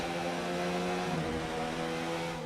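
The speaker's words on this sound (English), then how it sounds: "Alfa Romeo engine pulling away again." Alfa Romeo Formula One engine in F1 2019, racing in wet conditions at the Chinese Grand Prix, a sustained high-revving buzzing drone holding steady with a brief pitch shift as the car pulls away.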